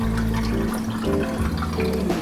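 Cooked udon noodles are rinsed under a tap, a loud, continuous splashing stream of water that runs alone for a couple of seconds.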